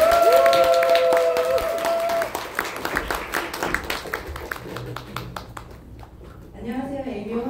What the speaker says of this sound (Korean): 큰 박수로 모시겠습니다. 황경희 리더님입니다.